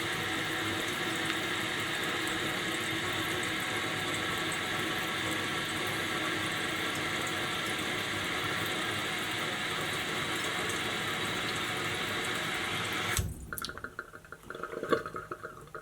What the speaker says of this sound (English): Now we're going to wait here for the water to rise, and it should stop at the proper water level.